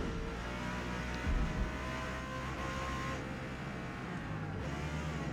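A Lexus RC F engine drones steadily while slowing through a corner at Daytona in the Forza Motorsport racing game. The engine note shifts slightly, and a brief low thump comes early on.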